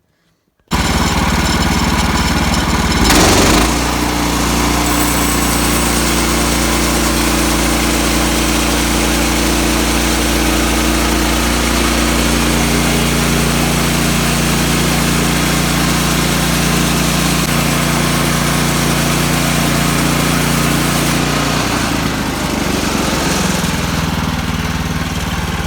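Portable sawmill engine cutting a log into boards, starting up loud and droning steadily close by for over twenty seconds with a brief change in pitch early on as the blade bites, with no talking.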